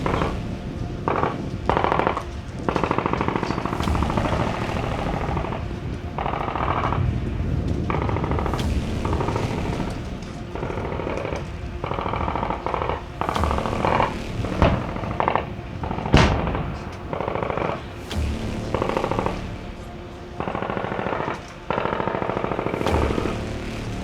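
Heavy weapons fire during a military field exercise, including a 66 mm anti-tank system, as loud, dense, continuous bursts of rapid blasts and cracks with brief lulls, sounding close and sustained.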